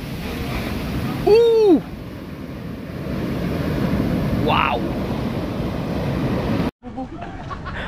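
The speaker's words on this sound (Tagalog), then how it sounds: "ang laki ng along humampas na yun" Large ocean waves crash with a loud continuous roar and heavy wind rumble, while people exclaim over the noise and the sound briefly drops out near the end.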